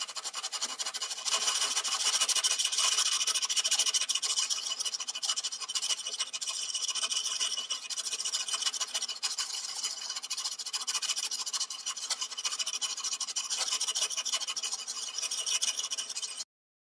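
A 220-grit emery strip rubbed back and forth over metal to remove file marks, a continuous close, bright scratchy rasp that runs steadily for the whole stretch and then stops abruptly, with no talk.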